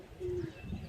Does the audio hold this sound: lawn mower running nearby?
no